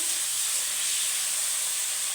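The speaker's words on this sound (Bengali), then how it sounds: "আমি কপিটা তুলে দিয়েছি এই তেলেতেই" Cauliflower fries in the oil left from frying potatoes, a dense, even hiss of steam and sizzle, loud and close, steady throughout.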